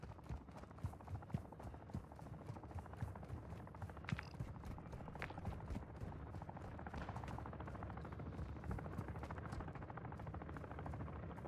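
A helicopter hovers in a Call of Duty DMZ match, its fast rotor chop thrumming steadily and faintly across the scene, with scattered distant gunshots mixed in.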